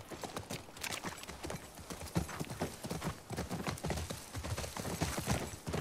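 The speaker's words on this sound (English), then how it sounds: "I wonder how long we're gonna keep this horse." Steady clip-clop of horse hooves at a trotting rhythm in the video game The Last of Us Part II, continuous and fairly close, with a faint game-like background.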